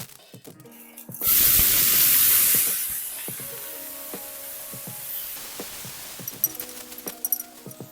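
Frozen vegetables hitting a hot pan with olive oil after chicken, a sudden loud sizzling hiss that swells for over a second and then fades to a quieter crackle amid scraping and utensil clinks.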